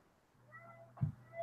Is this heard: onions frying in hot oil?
no